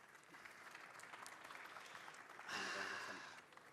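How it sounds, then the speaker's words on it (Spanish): Applause from an audience at a mining industry conference panel, faint and distant at first, then swelling louder for about a second near the end before fading. "Un aplauso para ellos."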